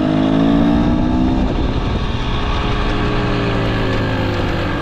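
A 2023 KTM 300XC two-stroke dirt bike engine runs steadily and loudly up close while riding, a continuous buzzing drone with slight pitch shifts and no talk over it.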